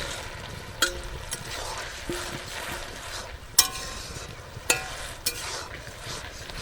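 Boondi being tipped into hot sugar syrup flavoured with cardamom and stirred, a soft steady simmering wash broken by several sharp clinks and scrapes of a spoon against the pan.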